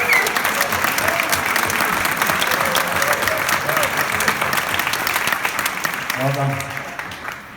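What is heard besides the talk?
audience applause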